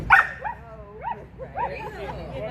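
A dog gives short, close yips and whimpering barks with rising and falling pitch, alongside a person speaking on a quiet Friday night.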